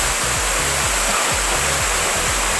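Nibaa waterfall in Aparicio, Ibajay roars as a loud, steady wash of rushing, splashing water, close and continuous with no voices.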